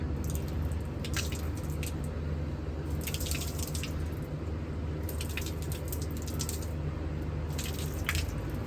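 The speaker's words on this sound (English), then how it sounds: "pour water on it" Water poured onto a waterproof winter glove, splashing and dripping in a steady wet patter, with brief squishy sounds recurring, close by.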